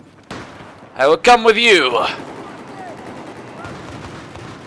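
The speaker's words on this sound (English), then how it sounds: "Oh, there are gunshots." Gunfire in the shooter game Battlefield 4, Operation Locker conquest map, a short burst of loud shots and impacts near the start, then a quieter rumbling battle backdrop while someone talks over it.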